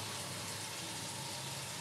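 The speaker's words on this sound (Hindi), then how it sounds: "मैं इसमें पानी डाल रही हूँ" Water pours steadily into a cooking pot with a soft, continuous gushing hiss that stays faint and even throughout.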